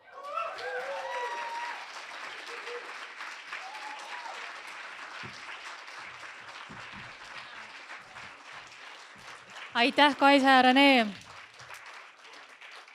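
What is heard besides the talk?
audience applause at award ceremony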